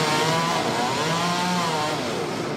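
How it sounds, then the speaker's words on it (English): A chainsaw run by tree trimmers cutting down trees sends out a steady, loud, buzzing engine whine that holds on without a break, with no voices. "It's common to hear chainsaws year-round, removing dead branches, even entire trees."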